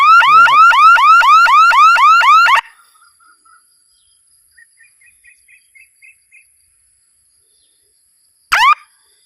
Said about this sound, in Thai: ถ้าหลักล้มครับ สัญญาณบอกก็จะดังเลยครับ